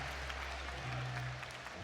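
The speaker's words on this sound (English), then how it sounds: "The crowd is showing great appreciation for Daniel Cardenas." A crowd at a college wrestling dual meet between Iowa State and Stanford applauds steadily, a dense wash of clapping that fills the arena with a low hum beneath it.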